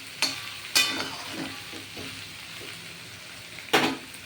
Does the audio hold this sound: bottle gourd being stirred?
yes